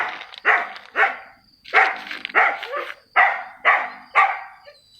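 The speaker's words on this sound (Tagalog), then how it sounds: "may bantay dito yung aso" A guard dog on a bitter gourd farm barks loudly and close by, about eight sharp barks in quick irregular bursts with short pauses between them.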